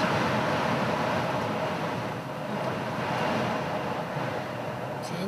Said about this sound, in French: C'est énorme le vent.